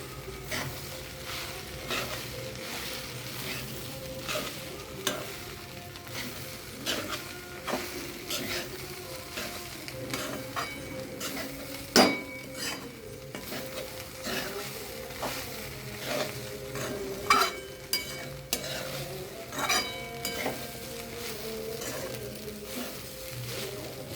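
Poha being stirred and mixed in a frying pan: a continuous low sizzle with a busy run of scraping, clicking spatula strokes throughout.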